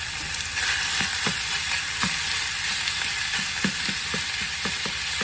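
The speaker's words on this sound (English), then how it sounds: "I'm gonna add these to the pan on medium-high heat." Chopped onions sizzling in a hot pan on medium-high heat for crockpot tortellini soup, a loud steady frying hiss with occasional scraping stirs of a utensil against the pan, no talk.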